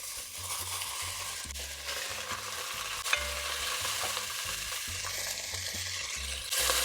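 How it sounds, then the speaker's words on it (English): Pork belly fries in olive oil in a pan with a loud, steady, close sizzle and occasional soft knocks of stirring. "So I'll add in a little bit of olive oil to our pan, some of the pork belly,"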